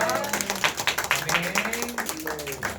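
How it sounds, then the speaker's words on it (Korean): A church congregation gives a round of applause after a hymn, many hands clapping in a dense, rhythmic patter that builds and sustains for a few seconds, close and steady. "하나님께 영광의 박수 올려드립니다."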